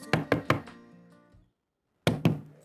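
Knuckles rap on a door at home in three quick, loud knocks, followed by a brief silence and then two more knocks, with no talking.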